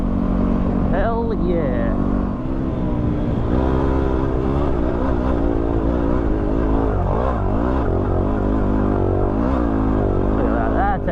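A WR250R dual-sport motorcycle cruises in fourth gear across a desert clay pan on a Simpson Desert trip, its engine droning steadily up close with wind rush. The rider speaks briefly over the engine.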